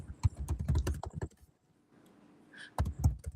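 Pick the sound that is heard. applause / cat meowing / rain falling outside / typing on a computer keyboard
typing on a computer keyboard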